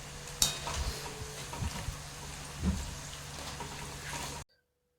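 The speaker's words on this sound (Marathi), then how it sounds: "आपले वेफर्स छान असे व्यवस्थित तळून झालेले आहेत तुम्ही आवाजही ऐकू शकताय" Banana chips frying in hot oil, a steady soft crackling sizzle with a few light clinks of a utensil against the pan, close and fairly quiet, ending abruptly.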